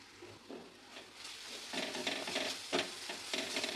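Chole masala sautés in hot oil in a pan with a soft continuous sizzle, broken by stirring scrapes that swell in short bursts, fairly close and moderately quiet.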